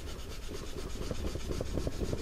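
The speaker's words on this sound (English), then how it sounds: "Just going to sand that down." A sanding stick rubbing on the wooden neck of a D-41 acoustic guitar during repair, giving a close, steady rasping scrape in quick back-and-forth strokes.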